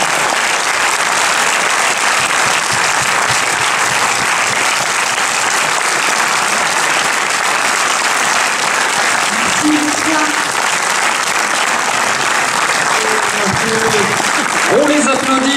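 Loud, sustained applause from an audience at a film premiere for Le Dindon, a dense continuous clapping that fills the room, with a few voices rising near the end.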